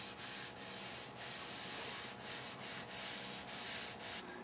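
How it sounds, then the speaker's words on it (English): Cloth rubbing English wax onto a painted wooden picture frame: steady, close scrubbing strokes, about eight rhythmic passes, with no voices. "my final touch on the frame is to apply a couple of coats of English wax"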